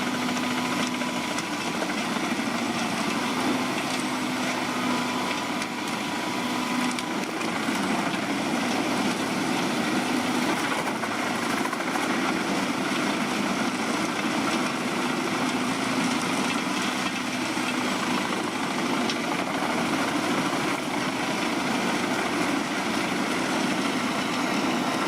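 A large wood chipper and grinder shredding branches, with a steady loud engine drone and grinding roar running continuously throughout, close by and with no talk.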